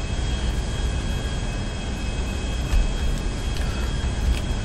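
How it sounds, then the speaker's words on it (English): Plane jet afterburners roar steadily in GTA Online, a continuous loud broadband rush with no pauses or voices. "It's afterburners."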